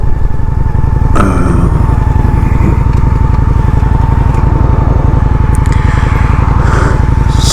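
A Honda Shadow 750 motorcycle rides along a road on a Sunday morning, its engine thumping in a loud, even rapid pulse, with brief scrapes and clatters over the steady drone.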